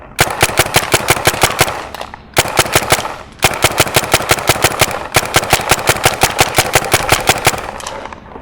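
A Tippmann A-5 paintball marker with a Cyclone feeder fires in rapid bursts, each a fast, harsh string of sharp pops close by, broken by brief pauses between the strings.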